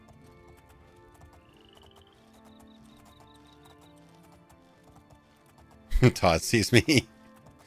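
Horse hooves clattering in the Oblivion video game, a short burst of several loud, quick clip-clop beats near the end, following quiet game ambience with someone talking over it.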